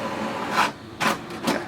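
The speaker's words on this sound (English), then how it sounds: "the printer has started printing now straight away" An HP Deskjet 2600 all-in-one printer making a copy, three rhythmic swishing passes of the print carriage and paper feed, close and moderately loud with a steady mechanical hum beneath.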